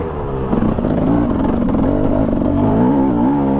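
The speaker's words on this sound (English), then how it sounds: "Let's see how much this two-stroke can lug up here." A Husqvarna TE300 two-stroke dirt bike labours up a steep mountain climb, its engine loud and close with a steady, throaty lugging drone that swells and wavers as the throttle shifts, with no talking over it.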